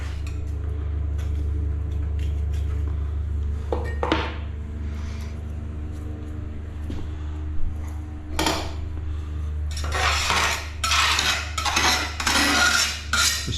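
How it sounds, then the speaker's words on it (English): Excess grout scraped off tiles during a silicone and tiling job, heard as scattered scraping and clinking strokes over a steady low hum, with bursts of harsher scraping building toward the end. "I've got a bit of excess grout. There, we'll just scrape that off"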